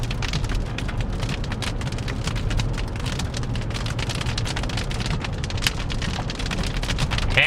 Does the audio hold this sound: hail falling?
yes